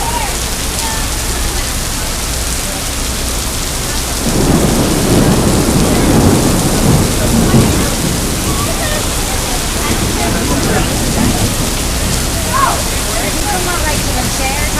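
Heavy summer downpour in New York in July 2009: a loud, constant roar of rain with a deep rumble of thunder swelling midway, and people talking nearby.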